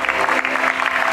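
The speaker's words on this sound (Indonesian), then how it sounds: "Tepuk tangan untuk Renata Kawi." Studio audience on the Family 100 game show applauding a contestant, a loud, dense burst of clapping and crowd noise that runs through the whole brief moment.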